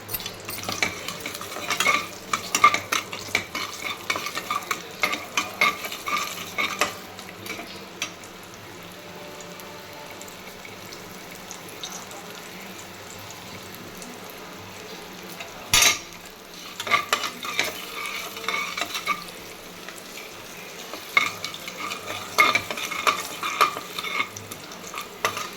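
Garlic frying in oil with a tempering of mustard seeds, cumin and dried red chillies, giving a soft steady sizzle broken by intermittent stirring and clinks of a spoon against the pan.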